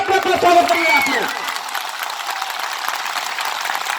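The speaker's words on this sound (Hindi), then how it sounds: "जोरदार ताली बजे के अपना स्वागत करिए आप लोग" Crowd applause at a political rally in Mohammadabad, Ghazipur, with a dense burst of clapping that is loudest at the start and then settles into a steadier, softer patter over the rest of the clip.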